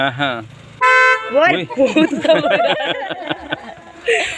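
A car horn gives a sustained honk and then a short second toot, set between stretches of close talking.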